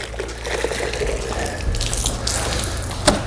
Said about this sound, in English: I am cleaning my wash mitt by scrubbing it over the mid-slide in my rinsing bucket